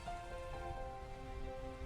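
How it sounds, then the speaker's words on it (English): Rain pounds against a window in a steady, dense wash of drumming on glass, with a faint tonal music bed beneath, part of Umineko game sound effects. "the obnoxious pounding of the rain against the window"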